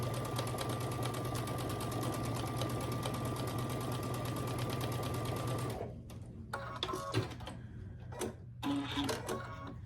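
Sewing machine stitching quilt pieces for a scrappy star quilt, running in a steady fast whir for about six seconds, then stopping, leaving scattered faint handling clicks and rustles.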